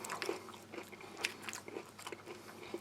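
Close, dry crunching and biting on a crisp pretzel cracker biscuit mixed into soft MRE beans and rice from a US Army Mexican-style ration, with irregular sharp crackles spaced through the chewing.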